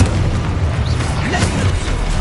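Confringo blasting spell going off in a Harry Potter video game: a loud, sustained booming rumble with dense low crackle that fills the whole moment without a clear break, with a voice heard over it.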